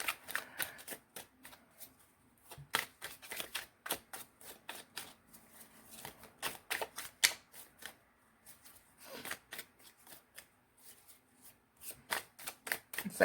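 Tarot cards being shuffled in rapid bursts of crisp riffling flicks, close and fairly quiet, with brief pauses between rounds and no talking.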